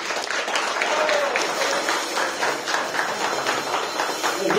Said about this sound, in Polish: To duże brawa dla Pana Wojtka.